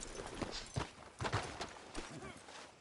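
A few hoof clip-clops of a horse walking in the video game Red Dead Redemption, sparse and uneven, with muffled talk and background ambience alongside.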